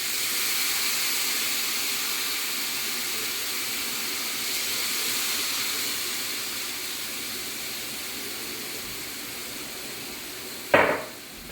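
Thin fish fillets fry in olive oil in a pan, giving a steady close sizzling hiss that fades slightly before a short sharp clack near the end.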